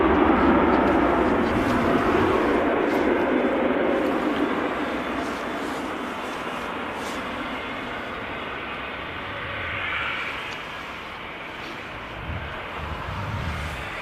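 Ryanair Boeing 737 at Manchester Airport producing a broad, steady jet roar from a distance, easing slightly in loudness over time, with faint wind and background noise mixed in.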